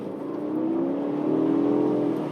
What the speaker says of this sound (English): that engine noise is fake. When you're in dynamic mode, it pipes in noise through the stereo.